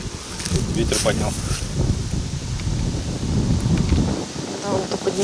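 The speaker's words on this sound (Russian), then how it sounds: "Ветер поднял." Wind gusts across a fishing pond at a countryside leisure resort, buffeting the microphone with a loud, uneven low rumble and rustle that rises and falls, with muffled voices underneath.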